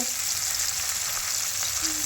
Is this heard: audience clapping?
no